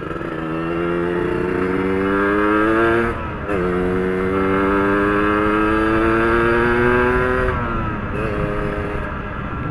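A Yamaha RXZ motorcycle fitted with an underbody racing exhaust revs loudly and steadily, its engine pitch climbing through two long pulls separated by a brief drop, with no talking.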